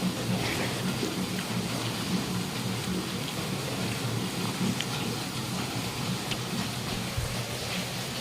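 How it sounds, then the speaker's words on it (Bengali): Heavy monsoon rain pours down outside a home during a nighttime downpour, a steady, dense hiss of falling water that continues unbroken throughout, with a faint low rumble underneath and no voices. "বাইরে খুব জোর বৃষ্টি হচ্ছে আজকে"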